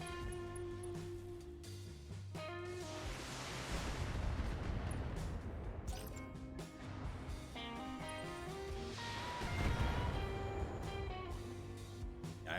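Mech weapons fire in a BattleTech battle, two heavy rumbling volleys of booming shots and blasts swelling and fading over a steady low mechanical drone, with no talk.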